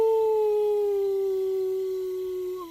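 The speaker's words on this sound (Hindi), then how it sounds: "रात को दूर से कुत्तों की भौंकने की आवाज।" A single long, steady canine howl rings out in the distance at night, a horror-movie style sound effect with a clear sustained tone that slowly drifts lower before tailing off, heard alone without talk.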